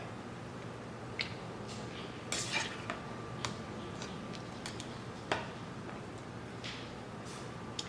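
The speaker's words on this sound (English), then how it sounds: "I'm gonna give it a final stir before I close it" Chicken stew with potatoes gets a final stir in a pot, the spoon clinking and scraping against the metal in scattered light taps over a steady background hum.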